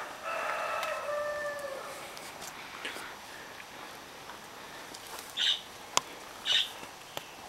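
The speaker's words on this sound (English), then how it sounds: "Probably hear some of the birds." Faint bird calls from a garden aviary, starting with a distant crowing call and followed by a few short, sharp chirps spaced apart.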